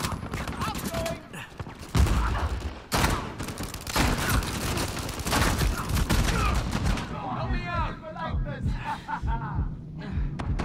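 Dense bursts of gunfire crackle through a firefight in the video game Uncharted 4, loud and near, with rapid volleys and booms broken by short gaps, while a player's voice talks and exclaims over the shooting.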